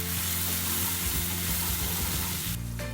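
Cashew and tomato paste with sugar and a bay leaf is stirred in a hot pan, giving a steady close sizzle and frying crackle throughout with soft spoon scraping and no voices.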